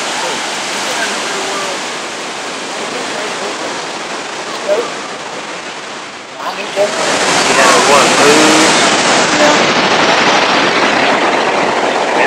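Loud, steady rush of surf churning below Huntington Beach Pier, California, in a strong current, a broad roar that swells stronger halfway through, with faint voices mixed in.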